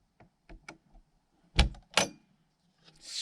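A DIY off-road camper trailer door being shut tight: a few light clicks and rattles, then two firm, close thuds of the door closing and latching, with faint handling noise after.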